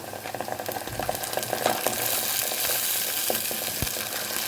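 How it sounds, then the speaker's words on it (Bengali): Ginger, garlic, tomato paste and onion paste frying in a pan for palak paneer, a steady close sizzle with scattered stirring scrapes and pops. "এখন এই আদা রসুন টমেটোটাকেও এই পেঁয়াজের সাথে খুব ভালো করে একটু কষিয়ে নেব"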